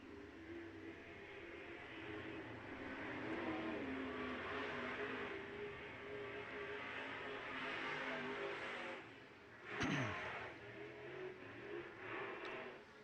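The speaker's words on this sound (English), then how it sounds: "When you talk about a stacked heat race, take a look at this one, Mike." IMCA modified race cars in a dirt-track heat race roar steadily at a distance, engine drone rising and falling as the pack circles, with one brief sharp sweep passing nearby.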